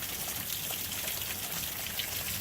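Steady rain falls during a thunderstorm in the Chicago area, a continuous even hiss of drops on outdoor surfaces with no thunder or voices standing out.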